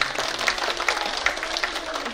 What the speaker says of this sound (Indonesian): Boleh tepuk tangannya lagi, pertanyaan bagus